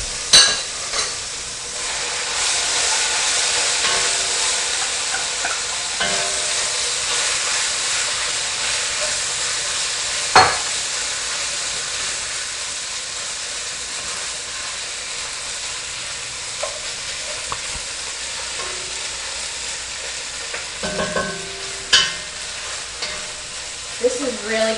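Pasta tipped into a hot pot of sauce and stirred, a steady loud sizzle and hiss running throughout with occasional sharp scrapes and clunks of the spoon against the pot.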